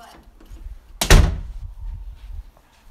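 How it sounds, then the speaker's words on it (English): A room door swings shut with a single sharp, close thud, followed by a brief low rumble and quiet room tone. "Okay, I'm closing my door because I'm making a video."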